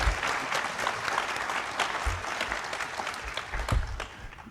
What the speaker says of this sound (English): So give them a round of applause just for the fact that they are working a lot.